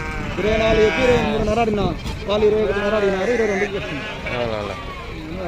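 Sheep and lambs at the Pebbair livestock market, a chorus of loud, overlapping bleats close by and continuing throughout, with people talking amid the flock.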